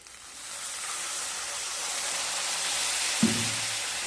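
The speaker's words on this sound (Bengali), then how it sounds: "সমস্ত মশলাকে খুব ভালোভাবে কষিয়ে নিতে হবে। সাথে দিয়ে দেব অল্প জল," Spices with turmeric and a splash of water cooking in a pan for a katla fish dish, a soft, even hiss of frying that swells slightly, with one brief knock near the end.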